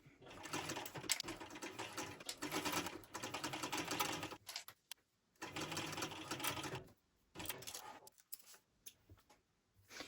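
Sewing machine basting linen cotton canvas at a long stitch length runs in several rapid whirring bursts separated by short pauses, close and fairly quiet, with soft stops and starts between runs.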